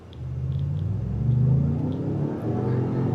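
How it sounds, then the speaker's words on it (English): A 2025 Ford Expedition Tremor with a V6 engine accelerates at full throttle. A steady, close engine drone swells and climbs in pitch, heard from inside the cabin without talk. "flooring it, you could hear a little bit of the blow off"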